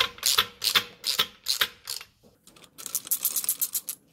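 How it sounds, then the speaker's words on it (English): Bolts spun in by hand on an MED straight-cut Mini gearbox during assembly, a run of about five short rasping ratchet-like bursts followed by a faster continuous clicking spin, close and clear with no talk. "We should now be able to spin the bolts in."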